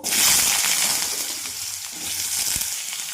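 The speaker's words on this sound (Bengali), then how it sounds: "কেটে রাখা আলুগুলো ভেজে নেব।" Cut potatoes frying in hot mustard oil with black cumin, a steady close sizzle and crackle in a pan with faint stirring scrapes, no talk.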